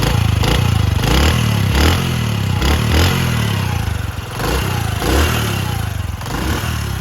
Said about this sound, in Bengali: সাইড সাউন্ডটা একদম একটা গুট গুট একটা সাউন্ড আছে দেখেন